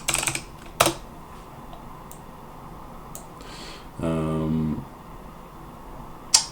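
Computer keyboard keys clicking at a desk, a few sharp isolated keystrokes spread out with a short burst of rapid typing near the middle, close and clear, with no voice over it.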